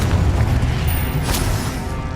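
A Confringo explosion spell goes off in the video game Hogwarts Legacy, a loud close boom with a rumbling low-end tail and a brief bright crackle partway through.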